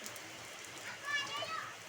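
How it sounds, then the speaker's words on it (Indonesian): Rain falls outdoors as soft, continuous patter while a small child plays in it, with a faint swell in the middle and a few light higher tones, fairly quiet overall. "Gak ada takut-takutnya ya sama air hujan ya."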